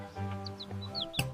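A cartoon chicken clucks in a farm setting, a few quick voiced clucks over a sustained tonal music bed, ending with a short bright accent.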